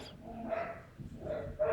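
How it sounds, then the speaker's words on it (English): A dog barks a few times, muffled and somewhat distant, in short bursts over a low indoor background. "These dogs."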